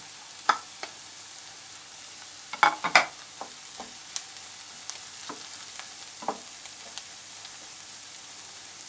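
Onions and minced meat frying in a pan, a steady soft sizzle with scattered sharp crackles and spatula clicks, close up and without talk.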